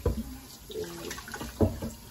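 Tap water runs steadily into a sink while ingredients for bulalo beef soup are washed, giving a close, splashing rush with small bumps of handling and no talk.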